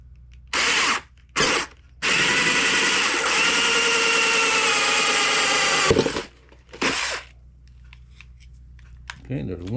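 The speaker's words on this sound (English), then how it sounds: "Now we'll center our drill bit on there." A power drill fitted with a hole saw whirs in short bursts, then grinds steadily for about four seconds before stopping, followed by another brief burst and quiet handling noise.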